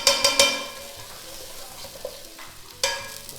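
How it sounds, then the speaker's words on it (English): Garlic and ginger frying in a pan for Korean braised pork ribs: a few sharp spoon-and-pan clacks, then a steady soft sizzle and occasional stirring scrapes, near and alone. "Get that nice and brown."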